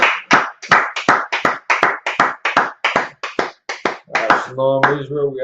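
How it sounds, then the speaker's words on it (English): An audience claps loud, rhythmic handclaps in quick bursts at close range, with a voice speaking at the end. "Clap it up. Clap it up,"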